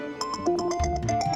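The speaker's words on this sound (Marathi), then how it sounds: "आजी फोन आलाय मला" A phone ringtone plays a short, bright electronic melody of pulsing tones for just over a second, fairly faint and with no voices.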